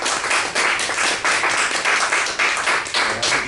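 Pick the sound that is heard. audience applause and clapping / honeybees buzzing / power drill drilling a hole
audience applause and clapping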